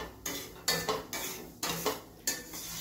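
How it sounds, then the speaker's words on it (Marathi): Semolina being roasted in ghee in a pan over a low flame, heard as a series of distinct spatula scrapes against the pan about every half second, each followed by a faint sizzle, close and without speech. "रवा एकदम असा बारीक गॅसवरच आपण छान असा भाजून घेणार आहे।"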